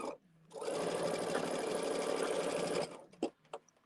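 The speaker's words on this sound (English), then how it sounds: "Chain sewing is when you just feed them one after another in." A sewing machine chain-stitches a run of quilt blocks, fed one after another, running steadily for about two and a half seconds after a quiet start, then stopping with a couple of small handling knocks.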